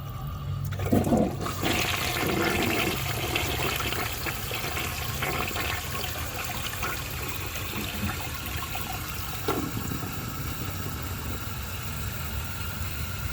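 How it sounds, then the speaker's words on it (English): A 1988 Artesian Atlantis vintage toilet flushes with a dish towel in the bowl: a loud rushing swirl at the start, then a long steady stream of water trickling and refilling the tank with no one speaking. "let's see if it can take a dish towel. I already know this is not going to go well for this toilet."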